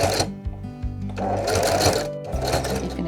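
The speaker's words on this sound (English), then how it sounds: "So I'm going to sew down and then go left." A sewing machine hums and clatters in close, quick stitching runs with a brief pause, sewing folded jelly roll strips of sunset-coloured fabric for a rug.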